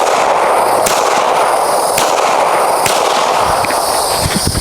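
Gunshots at an outdoor shooting range crack out as several sharp, loud reports spaced about a second apart over a steady broadband hiss, with no talking.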